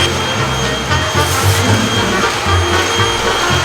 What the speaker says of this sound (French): maintenant j'ai un aspirateur